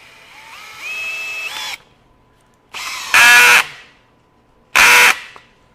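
A Bosch GSB18V-1330C 18V hammer drill driver with a T40 bit, in high speed and drive mode, whirs up in three separate bursts driving screws, the last two louder and shorter, with brief quiet gaps between runs.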